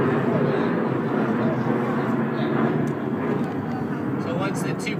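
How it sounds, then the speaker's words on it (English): An air compressor inflating a liner during plumbing pipe relining gives a steady, loud broadband roar with continuous talking over it. "The air compressor airs it up and then kicks off its heat UV activated"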